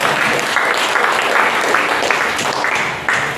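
Applause from a church congregation fills the space, a dense, steady wash of many hands clapping at close range for about three seconds, easing slightly near the end.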